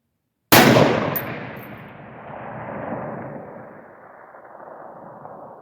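A single sharp rifle shot from a Palmetto AR-10 cracks loudly at close range, followed by a long echoing rumble and a faint metallic ring from a steel target struck at 1,000 yards.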